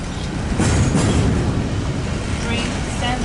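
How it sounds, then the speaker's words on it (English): A short freight train hauled by two locomotives rolls past at a rail line near Commerce, a loud steady rumble and rush of wheels close by, continuous throughout with light clatter. "there goes that Q train into Hobart"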